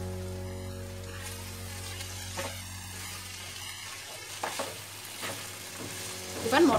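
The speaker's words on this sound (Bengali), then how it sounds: "এবার মশলার মধ্যে ছোলাটা দিয়েও বেশ খানিকক্ষণ কষাতে হবে, যতক্ষণ না তেলটা ছেড়ে দিই।" Boiled chickpeas fry in a spiced masala in oil while being stirred, giving a soft, steady sizzle with intermittent scraping and stirring sounds, with a steady low hum underneath.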